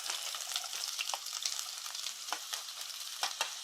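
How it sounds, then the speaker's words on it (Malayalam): Chopped onions and small shallots fry in coconut oil, giving a soft, steady sizzle with a few brief stirring scrapes and clicks, heard close but fairly quiet, with no talking. "ഒരു സ്പൂൺ വെളിച്ചെണ്ണ ഒഴിച്ചിട്ട് അതിലേക്ക് നമ്മൾ ഒരു വലിയൊരു സവോളയും ഒരു ഇരുപത് പത്തിരുപത് ചെറിയുള്ളിയും കൂടെയാണ് അരിഞ്ഞു വെച്ചിരിക്കുന്നത് അതങ്ങോട്ട് ഇട്ട് കൊടുക്കുക"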